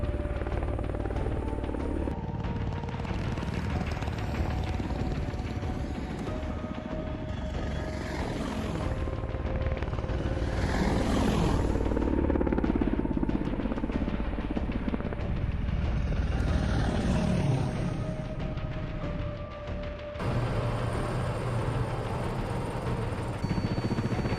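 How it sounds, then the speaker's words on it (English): Helicopters in a large-scale heli assault in the game Broken Arrow, a night operation, heard as a continuous heavy rotor drone with distant rumbling and combat noise underneath, steady and loud throughout, with no speech. "That is a large-scale heli assault, without a doubt."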